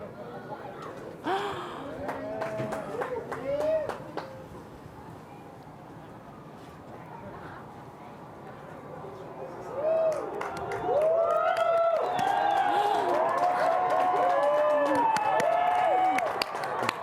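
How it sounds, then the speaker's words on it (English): Onlookers at a total solar eclipse break into cheering, with scattered voices and exclamations at first, then a louder, sustained swell of crowd cheers in the latter half. "Everyone is cheering."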